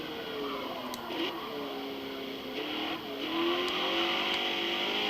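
A modified Mazda Miata with upgraded exhaust and intake in Forza Motorsport revs and accelerates, its engine note rising and shifting through gears with a brief tire squeal, steady and fairly close.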